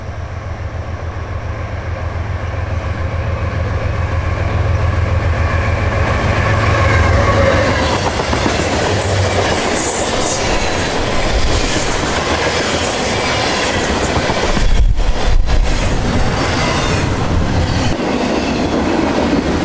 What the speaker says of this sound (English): train coming too.